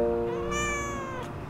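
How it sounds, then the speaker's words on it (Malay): A cat gives a single drawn-out meow lasting over a second, close and clear, with a rising then falling pitch and no talk over it. "dia kucing."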